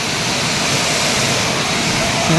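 A loud, continuous roar of a waterfall close by, broadband rushing water with no pauses.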